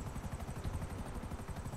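A helicopter flies in the GTA V video game, its rotor thumping in a fast, steady pulsing rhythm, quiet and continuous with no other sounds over it.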